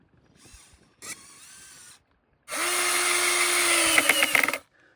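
Power drill driving long screws into wood for a half-log garden table, two short whirring bursts followed by one longer loud run that strains and stops, close and without talk.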